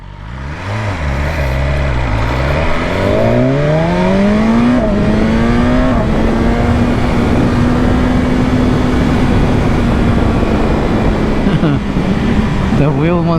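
A BMW S1000R sport motorcycle accelerates hard: the engine note climbs quickly through gears, then holds a loud, sustained high-revving whine near the rider, with steady wind roar underneath throughout.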